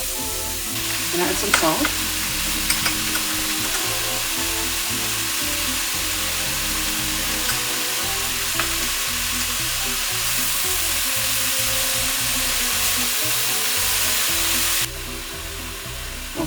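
Mushrooms sizzle and fry steadily in olive oil in a pan, a continuous close crackle lasting throughout, with a brief spoken remark near the start.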